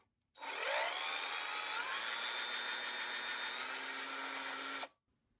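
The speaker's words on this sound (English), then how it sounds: "I've got an 1/8 inch bit in my power drill." A power drill fitted with a 1/8 inch bit runs for about four and a half seconds, a close, steady high-pitched whine that starts and stops abruptly, with slight pitch shifts under load.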